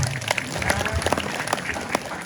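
Audience applause at a Balinese stage performance, a dense patter of clapping with scattered sharp individual claps, with voices mixed in.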